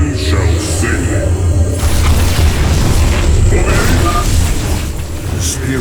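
Cannon fire and explosions in the StarCraft II video game, heard as a dense continuous roar of booming blasts and rumbling that stays loud throughout, with a voice speaking over it.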